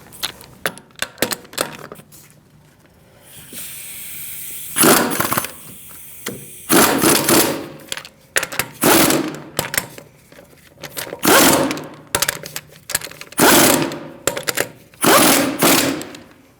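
Lug nuts are snugged by hand on the wheel of a 2008-2014 Mercedes-Benz C300, with bursts of ratcheting clicks and metallic rattles repeated in short runs, up close and without talk.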